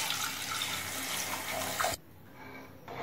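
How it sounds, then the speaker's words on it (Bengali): Milk pouring into a pan for kaon rice payesh, a continuous splashing liquid rush that stops abruptly, leaving faint quiet kitchen sounds. "এবার দুধ দিয়ে দেবো।"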